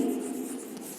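Marker or chalk writing a sentence on a board, a brief continuous scraping stroke, moderately loud and close, with no talk.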